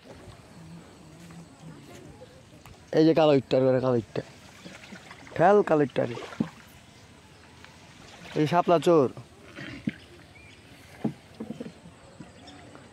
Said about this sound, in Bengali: নৌকা চালাবো